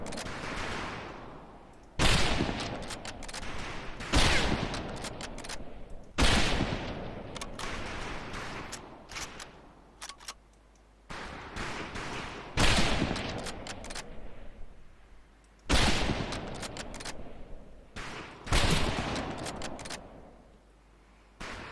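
Rifle shots on a Marine training range in the video game Medal of Honor Pacific Assault, a string of loud, sharp reports in uneven volleys, each with a decaying tail, several seconds apart.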